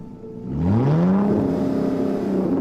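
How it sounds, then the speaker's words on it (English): Car engine revving sounds on the Lightning Rod roller coaster at Dollywood rise from quiet into a loud, rising roar, then hold a strong whirring drone with overlapping engine tones. "If you listen closely, you can hear engines revving."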